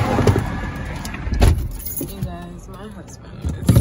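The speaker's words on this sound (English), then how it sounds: "Bring the keys with you." Car keys jangle as people get out of a car stopped beside a highway, with bright metallic clinks and rattles up close, mixed with door and movement noise and some speech.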